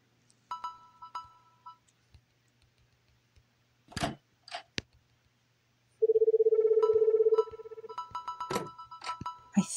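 A telephone in the horror video game Trapped Girls gets dialed: a series of short key tones and clicks, then a sustained steady ringing tone followed by more rapid beeps.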